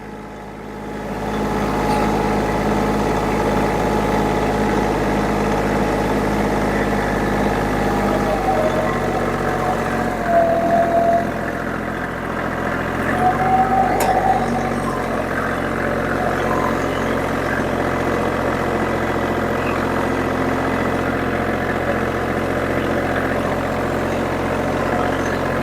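A tractor engine runs steadily throughout, cutting swale passes across sandy, coarse soil on a ridge, a constant loud mechanical drone with a shift in load partway through and no talk.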